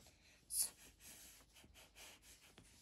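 A single quick sniff through the nose, sharp and close, followed by faint breathy noise and quiet.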